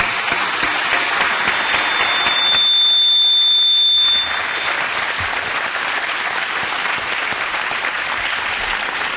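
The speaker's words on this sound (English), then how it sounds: "So if you would, join me for a round of applause." A crowd at a university event on reimagining education gives sustained applause, broken partway through by a loud steady electronic beep or buzzer tone that cuts in and out.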